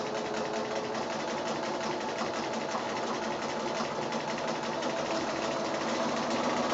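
A sewing machine runs in a continuous, even stitching hum, close and steady throughout, while double lines of stitching are sewn on a quilt appliqué.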